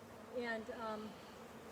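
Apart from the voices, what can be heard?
honey bees buzzing during hive inspection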